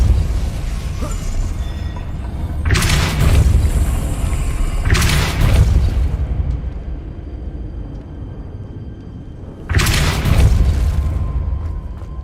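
Depulso spell cast in the Hogwarts Legacy video game, heard as three loud booming bursts, each sustained for a couple of seconds over a constant rumbling game background.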